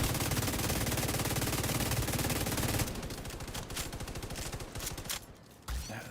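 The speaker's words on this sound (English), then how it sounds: "And they're shooting you from the left." Sustained enemy gunfire in The Division 2, rapid automatic bursts crackling loudly and continuously, thinning into sparser shots before a short pause and a final burst.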